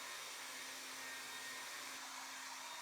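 A hair dryer runs steadily and continuously while drying hair after a leave-in repair mask is applied, a constant close whooshing airflow hum with no talk.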